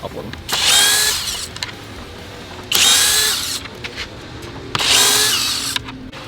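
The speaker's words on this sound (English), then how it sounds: "we're going to remove these 4 screws down here with our T27" A power drill backs out T27 screws on the grille of an Ineos Grenadier, with three separate loud whirring bursts, each lasting about a second, separated by short quieter pauses.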